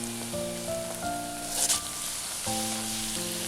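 Puri fries in hot oil with a soft, steady crackling sizzle, heard close and fairly quiet under a layer of background music.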